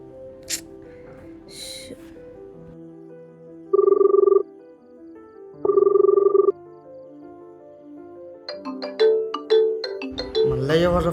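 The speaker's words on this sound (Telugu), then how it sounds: "మళ్ళీ ఎవర్రా ఫోన్ కొడుతుంది?" An incoming call sets off a mobile phone ringtone in a Telugu short film: two loud, identical electronic bursts of about a second each, spaced a couple of seconds apart, with quieter room sounds and music around them.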